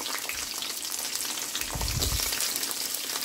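Peanuts fry in hot oil in a pan with a dense, continuous crackle and sizzle, close up and fairly loud. A brief lower stirring scrape comes partway through.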